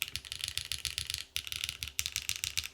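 Typing on a Luminkey Lumino75 75% mechanical keyboard fitted with bottom foam, a quiet, fast run of muted clacky keystrokes in rapid bursts with a short pause midway.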